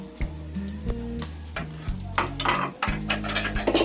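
Three torn bay leaves fry in hot oil in a pot for a fish curry, with a steady sizzle broken by repeated clinks and scrapes of a utensil against the metal.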